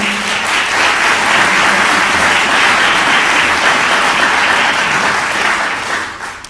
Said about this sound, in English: give a round of applause to our wonderful speakers tonight